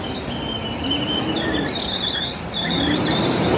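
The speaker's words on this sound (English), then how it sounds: "Is that how those gas or oil delivery trucks, is that how they're supposed to sound?" A gas or oil delivery truck on a New York City street in Manhattan gives off a sustained, wavering high-pitched squeal over a heavy, steady mechanical rumble, loud and close throughout.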